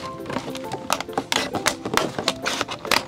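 Rapid, irregular crunchy snips and crackles of scissors cutting through a thin plastic bottle, close up and continuous for a few seconds.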